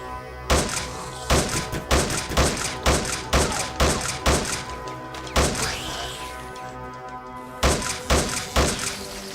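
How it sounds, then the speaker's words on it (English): A shotgun fires again and again in the VR game Necro Mutex. About a dozen loud, sharp blasts come at a quick, fairly even pace, with a short pause before a final cluster. "I changed to a shotgun, and so you see the shotgun is just easy to shoot"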